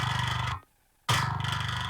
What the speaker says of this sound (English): That's where we're getting the majority of the distortion of the bass sound.